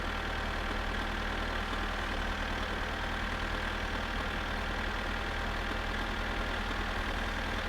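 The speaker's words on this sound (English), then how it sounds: "hate this tractor noise so much" Idling tractor in My Summer Car, its engine holding a flat, monotonous rumble and hum at steady volume, no speech over it.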